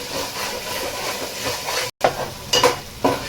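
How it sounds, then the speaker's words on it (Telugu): Ginger garlic paste sizzles and fries in a pan while being cooked for biryani, a steady hiss with occasional stirring scrapes near the end, close and fairly loud. "పత్తి వాసన పోయేంత వరకు అల్లం వెల్లుల్లి పేస్ట్ బాగా వేగాలి"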